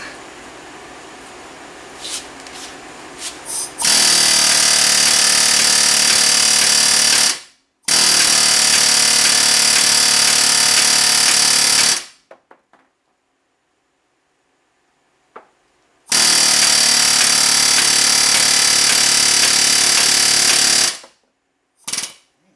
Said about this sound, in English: I can actually use the jackhammer and hit it with the regular hammer at the same time